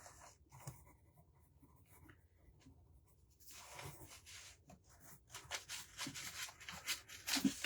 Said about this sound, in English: Let me write that down so I don't